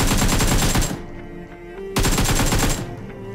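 Loud, close automatic gunfire in the mobile battle royale game BGMI, two rapid bursts of about a second each with a short pause between, then fading echoes.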